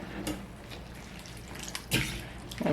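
Water with pickled vegetables stirred in a pot, a low steady sloshing with a few louder splashy stirs near the end, close and fairly quiet.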